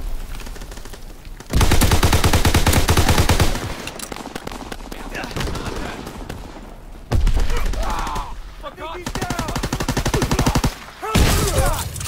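Automatic weapon fire in the World War II shooter game Call of Duty WWII, loud close bursts of rapid machine-gun shots in several volleys with quieter gaps between them, and someone talking over it.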